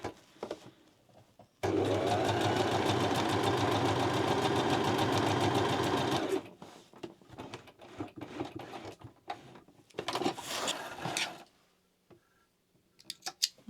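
A sewing machine runs gathering stitches on a dress, a loud steady, close motor whir for about five seconds, then stops and leaves handling clatter and a shorter burst of stitching, no talk.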